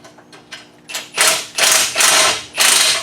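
A hand ratchet clicks in quick bursts while tightening the header bolts on a 1999 Toyota Camry demolition derby car, a few faint clicks at first, then four loud, close ratcheting bursts with short pauses between them.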